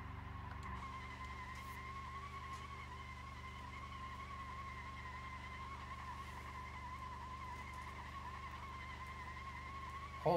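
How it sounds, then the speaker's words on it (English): Taxi in the BeamNG.drive video game doing a one-wheel peel, tire squealing steadily with a sustained screech over a droning engine for about ten seconds, with no talking. "One wheel peel, I like it."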